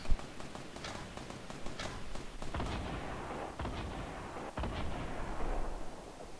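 Rocket launcher blasts and explosions in Fortnite Battle Royale, with a sharp loud boom at the start followed by repeated mid-distance bursts and rumbling impacts, without speech.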